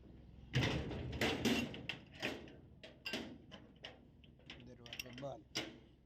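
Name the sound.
door being closed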